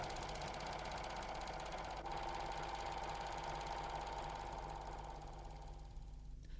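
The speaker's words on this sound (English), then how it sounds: "Make sure that the cord is under the indicating line on the foot and start sewing slowly." A Janome 6234XL overlocker runs steadily while sewing a corded edge, giving a continuous mechanical whir and rapid stitching hum that carries on evenly for about six seconds before easing off slightly at the end.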